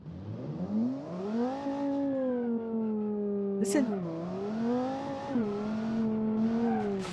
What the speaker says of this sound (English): the gears they call them straight cut gears, I think, in the sequential gearbox, which makes its special whining noise